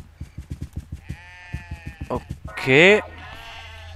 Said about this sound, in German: Schafe sind das.